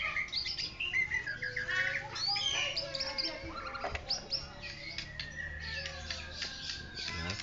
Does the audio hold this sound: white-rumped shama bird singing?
yes